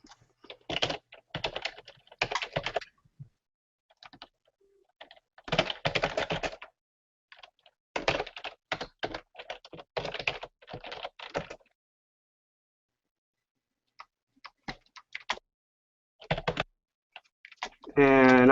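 Computer keyboard clatters in dense bursts of rapid keystrokes as a headline is typed for a sales page, with pauses between runs and a louder flurry at the end.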